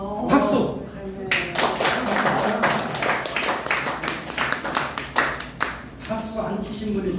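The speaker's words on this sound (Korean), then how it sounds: "박수." A seminar audience breaks into brisk clapping at a talk on funeral culture, the applause bracketed by a speaker's voice at the start and the end.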